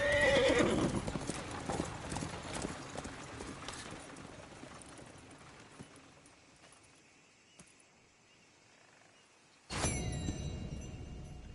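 A horse in the video game Red Dead Redemption 2 gallops with fast clip-clopping hoofbeats that gradually fade, then lets out a sudden, loud, close neigh near the end.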